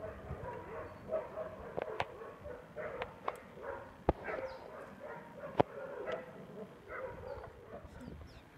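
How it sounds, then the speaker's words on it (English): Dogs scuffling and play-fighting outdoors near a stick fort, with yips, whimpers and sharp barks scattered over steady rustling and panting, fairly close. "Savage dog fight."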